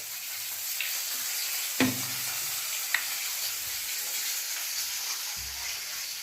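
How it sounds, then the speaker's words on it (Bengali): Snake gourd fries in a pan with a steady, close sizzle and hiss, broken by a couple of brief stirring scrapes and clinks, no voices. "ওদিকে দেখো, চিচিঙ্গে ভাজা হয়ে গেছে"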